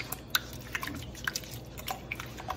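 Honey, water, milk, salt and oil being stirred together for sourdough sandwich bread dough, giving a run of soft wet drips and sticky squishes at an uneven, irregular rhythm, close and fairly quiet.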